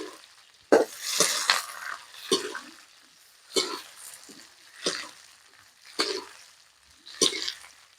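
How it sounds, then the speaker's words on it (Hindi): Capsicum, chili, onion and tomato fry in hot oil in a village-style kitchen, with sizzling and repeated stirring scrapes coming in regular bursts about once a second, close and fairly loud. "तेल गरम हो गया है, शिमला मिर्च, मरचा, प्याज, टमाटर मिलावे जाते।"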